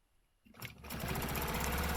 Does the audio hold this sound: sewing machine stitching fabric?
yes